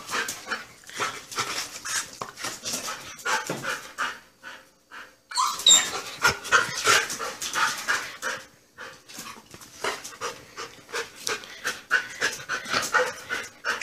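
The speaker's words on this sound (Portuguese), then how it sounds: "A bagunça que esse cachorro faz, gente." A dog pants rapidly and steadily up close, quick rhythmic breaths continuing throughout with a brief pause partway.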